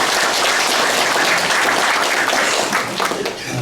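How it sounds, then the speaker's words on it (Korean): Short burst of audience applause for journalists at a town hall meeting with residents of Godeok-myeon, Yesan County, brisk, close clapping from a roomful of people, thinning slightly toward the end. "우리 언론인 여러분들에게 큰 박수 좀 한번 부탁드립니다"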